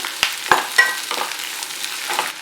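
Onion and capsicum frying on medium flame for barbecue paneer, a light crackling sizzle punctuated by several sharp spatula scrapes and taps against the pan, close and without voices.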